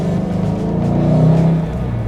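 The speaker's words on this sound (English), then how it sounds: "there's really not much like the GT 500's engine noise, exhaust note" Ford Mustang GT500 engine and exhaust producing a steady, loud low rumble that swells slightly in the middle and then settles, with no talking over it.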